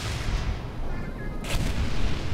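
Automated turrets firing in the video game Portal 2 during co-op play, a dense rattling burst of gunfire that swells near the end, with no talking over it.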